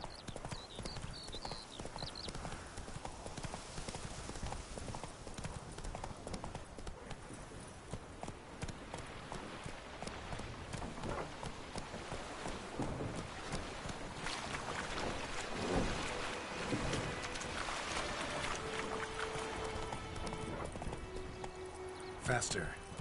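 Horse hooves clip-clop steadily while riding in the video game The Witcher 3, with wind noise and a speaking voice over the continuous hoofbeats.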